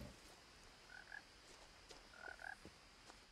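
Frogs croak faintly in the video game What Remains of Edith Finch, with two short bursts of chirpy croaks over quiet background ambience.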